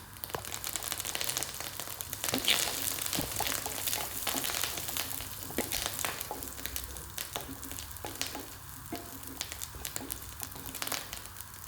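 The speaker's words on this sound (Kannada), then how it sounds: "ಇವಾಗ ನಾನು ಬೆಳ್ಳುಳ್ಳಿ, ನೆಕ್ಸ್ಟ್ ಕರಿ ಲೀವ್ಸ್ನ ಆ್ಯಡ್ ಮಾಡ್ಕೊಳ್ಳೋಣ." Garlic and curry leaves fry in hot oil while being stirred, a continuous crackling sizzle with frequent sharp pops and scraping stir sounds, steady and close for the whole stretch.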